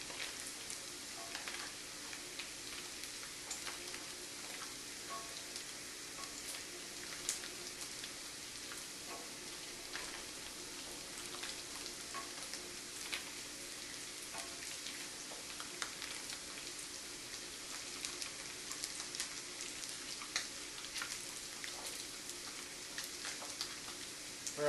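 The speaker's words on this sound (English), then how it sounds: "You can hear it sizzling and popping." XO sauce ingredients sizzling and popping in hot oil in a pan, a continuous even frying hiss with scattered small pops, steady and moderately close without talk.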